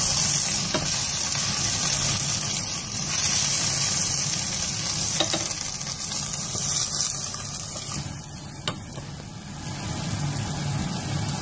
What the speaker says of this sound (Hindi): खुश्क दूध को हम अच्छी तरह इसके अंदर मिक्स कर लेंगे